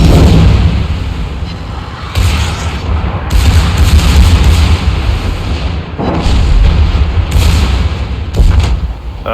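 The German Tier 3 battleship Nassau fires gun salvos in World of Warships: loud, heavy booms roll one after another into a dense, continuous rumble that fills the whole stretch.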